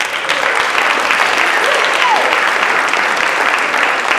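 Steady, dense applause from a large audience at a panel discussion event, loud and continuous throughout.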